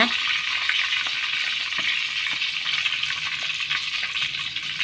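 Spices and lentils crackle and sizzle in hot sunflower oil as a tempering is made, with a steady, close, continuous frying hiss and occasional light pops throughout.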